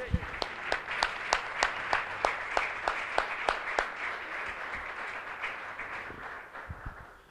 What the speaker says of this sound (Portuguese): Vamos aplaudir ao Senhor mais uma vez?